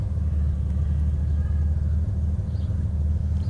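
A Ferrari 400 with a V12 engine idling, a steady deep rumble with low throbbing pulses, continuous and close, with no voices over it.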